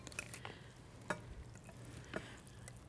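A small spatula stirs a thick bean, sausage, macaroni or corn casserole mixture, giving a few soft scrapes and wet clicks at a slow, uneven pace, quiet and close, with no one talking.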